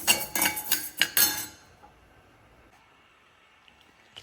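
Kavuni black rice being dry-roasted in a pan, several sharp metallic scrapes and clinks of a spoon against the pan in the first second and a half, then near silence with a few faint ticks.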